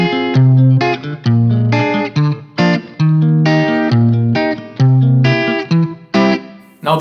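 Electric guitar run through effects units and distortion plays the chorus of a song, loud sustained chords in a steady rhythm with short gaps between phrases, no voice.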